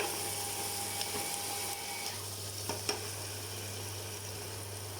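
Vegetarian minced meat for a meatless spaghetti carbonara fries in a pan on the stove, a soft, steady sizzle over a low hum, with a few faint utensil taps.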